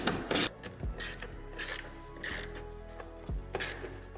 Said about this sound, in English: Now you can remove the 4 T10s holding in the OEM subwoofers.